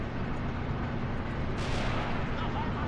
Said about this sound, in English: Oh, that's the Stug firing. Sturmgeschütz.